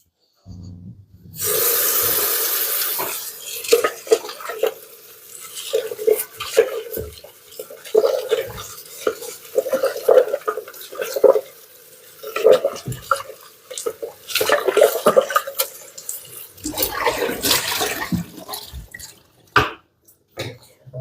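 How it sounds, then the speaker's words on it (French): A Thermomix bowl is washed under a running tap: a steady rush of water starts after a moment of quiet and continues with splashing, drips and clunks of the bowl being handled. "Il faut nettoyer le bol. Voilà, nettoyer et sécher le bol."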